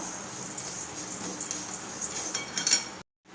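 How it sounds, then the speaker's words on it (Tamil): Lentils and black peppercorns dry-roasting in a pan for a curry leaf dish give a continuous soft rattling and scraping as they are stirred, close and fairly quiet, ending abruptly. "மிளகையும் சேர்த்துட்டு வறுத்துப்போம் பருப்பெல்லாம் கொஞ்சம் செவக்க வறுபடட்டும்"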